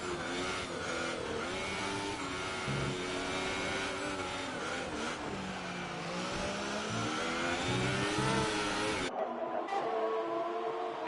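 F1 race cars in a racing game screaming at full throttle in a drag race down the front straight at the French GP, a loud sustained high-pitched engine wail with rising pitch sweeps for about nine seconds before cutting abruptly to near silence.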